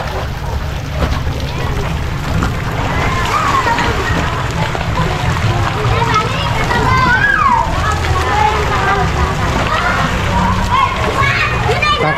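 At Dolores Villas beach in General Santos City, children swim and splash in the sea, with water sloshing, wind and busy talk and kids' voices blending into a steady outdoor din.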